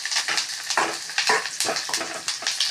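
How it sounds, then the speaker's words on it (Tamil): Onions, garlic, curry leaves and dried red chillies sauté in a pan for a lentil mash, with a steady close crackling sizzle broken by rhythmic scraping stirs. "நல்லா வதங்கட்டும் பாருங்க"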